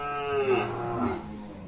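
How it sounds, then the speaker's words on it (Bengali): A Sahiwal-breed bull at a cattle market gives a single drawn-out moo, close and clear, falling in pitch before trailing off, over a light murmur of background noise. "খামার উপযুক্ত শাহিওয়াল জাতের সার গরু যেগুলো থাকে"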